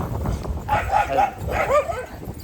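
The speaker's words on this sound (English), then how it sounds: "Sorry about the dog." A dog barks a few times indoors in two short clusters at moderate distance, with no talking over it.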